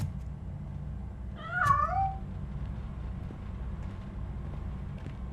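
A cat in RoboCop: Rogue City gives one short wavering meow, fairly close, over a steady low mechanical hum, with no other sounds around it.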